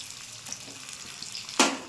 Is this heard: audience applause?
no